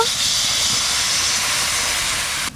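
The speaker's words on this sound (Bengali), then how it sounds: "জলটা ফুটে গেছে" Water boiling on a stove sends up a loud, steady hiss of steam that holds evenly throughout and drops off sharply at the very end; no one talks.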